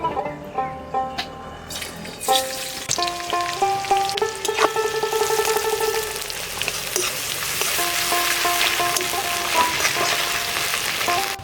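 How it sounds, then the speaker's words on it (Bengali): Sliced onions fry in mustard oil in a wok, giving a steady crackling sizzle with occasional stirring scrapes, close and moderately loud, over faint background tones. "পেঁয়াজগুলো ভেজে নেব।"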